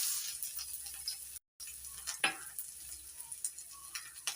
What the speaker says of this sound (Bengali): রসুনটা লালচে লালচে করে ভেজে নেব।